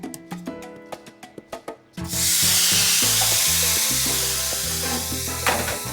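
Shrimp hit a hot flat-top griddle with a sudden loud, steady sizzle, preceded by a run of light rhythmic taps and clicks.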